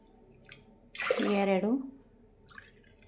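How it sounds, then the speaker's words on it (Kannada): A cup of water pours into a cooking pot while preparing rice and chana dal payasa, one short splashing pour of about a second, close and fairly loud, with faint clinks before and after. "4 ಅಥವಾ 5 ಕಪ್ ನೀರು ಹಾಕ್ಕೋಬೋದು"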